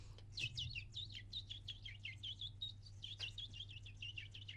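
A human voice imitates many birds chirping in a tree, a continuous stream of quick, high, overlapping tweets and trills lasting several seconds, faint and close, over a low steady hum.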